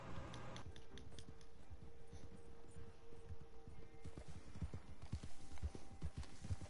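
Hooves clip-clop steadily in a video game, a continuous rhythmic trot of a horse moving over ground, fairly close and level in volume, with a faint low hum under it.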